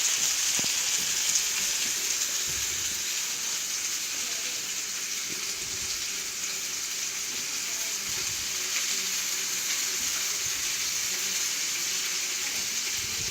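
Pork tenderloin sizzles steadily in a hot pan as it is shifted around, giving a continuous close, loud frying hiss with occasional soft scrapes.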